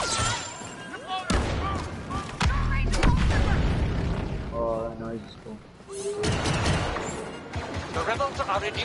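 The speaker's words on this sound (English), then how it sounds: "Oh, that's a dope grenade." In Star Wars Battlefront 2, a grenade blast booms amid sustained battlefield gunfire and heavy explosions, with a player talking excitedly over the loud, continuous combat.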